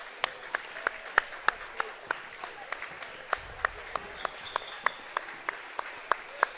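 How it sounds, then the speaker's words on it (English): Sparse, steady applause from a crowd at a high school boys' basketball tournament game, with individual claps spaced evenly and sounding somewhat distant in a large gym. "for the crowd to applaud them"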